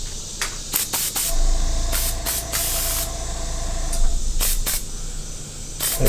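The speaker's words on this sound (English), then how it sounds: "you definitely want to be careful on spraying it light" Aerosol spray paint hisses in repeated light bursts across a Halloween Kills mask from Trick or Treat Studios, broadband and fairly close, with short gaps between passes and a low background hum.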